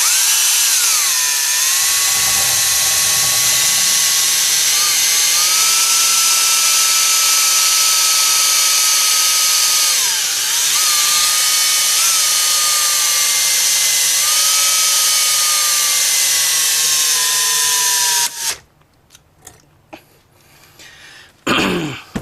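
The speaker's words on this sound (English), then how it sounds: "I've switched up to a 3/32 drill." A small 3/32 drill bit spins steadily near the mic as it bores into a broken scope-ring screw, a continuous high whine lasting most of the clip, with a brief dip midway before it stops abruptly into quiet handling clatter.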